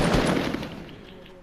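A loud, close burst of video game gunfire, a dense rattling volley that starts hard and trails off over about a second and a half.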